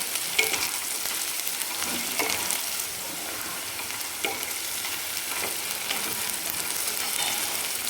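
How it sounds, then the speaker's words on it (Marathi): Ginger-garlic paste sizzles in hot oil in a pan, a steady close hiss of frying with a few soft scrapes of stirring throughout, no voices. "त्यामुळे थोडंसं आपल्याला एक मिनिटभर आपल्याला याला छान परतून घ्यायचं आहे तेलावर"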